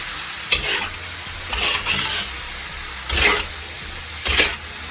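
Choy sum greens sizzling in a pan, with a soft continuous fry and several distinct scraping stirs at intervals, close and fairly quiet.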